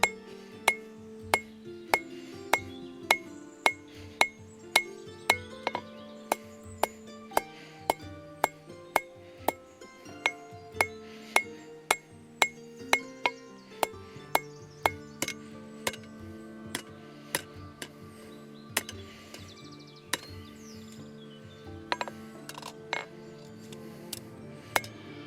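Hot steel is hammered on a hardy cutoff while forging a drawknife, a long series of sharp ringing metallic strikes at a steady rhythm, close and clear with no talking.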